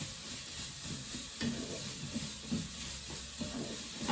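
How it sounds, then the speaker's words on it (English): Chopped onion frying in a pan for Mexican fiesta rice, a steady sizzle and crackle under occasional stirring, close and moderately loud with no talk. "that's cooking off nicely. My onion is just going nice and see-through there."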